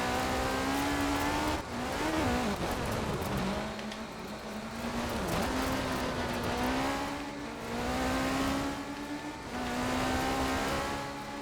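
A race car slides repeatedly under handbrake in K74 Rivals, the engine droning and revving at a steady pitch with tire scrub rising and dipping in long waves, loud and continuous with no talk.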